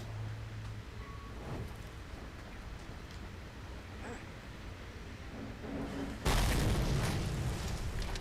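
Explosions rumble in the Mad Max video game, with tanks nearby. Faint, distant booms are followed by a loud, sudden blast that sends a sustained roar of debris noise to the end.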